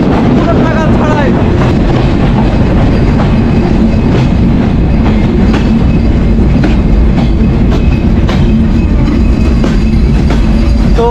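Rupsha Express passenger train rolling on rails, a loud steady rumble with rhythmic clickety-clack of wheels over joints and faint squeal, continuous throughout from on board or close by, with no talk.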